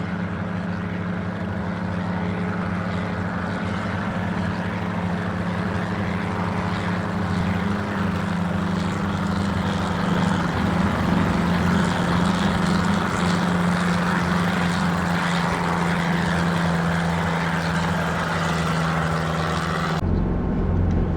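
Steady, droning engine and rotor noise from a simulated Schweizer S300CBi helicopter in X-Plane 11, holding constant and loud throughout with a slight rise in intensity midway, no voices.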